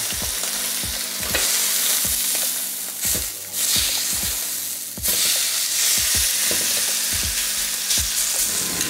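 Beef sizzles and fries in its own rendered fat in a pan, a steady broadband crackle with repeated sharp scrapes and taps of a utensil stirring, loud and close with no voices.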